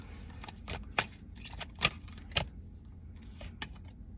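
Tarot cards being shuffled by hand, a series of crisp close riffles and flicks with brief pauses between them, no voices.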